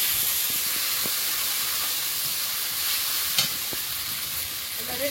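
Dry chillies, panch phoron and ginger-garlic paste fry in hot oil with a loud, steady sizzle and hiss, broken by occasional soft stirring clicks.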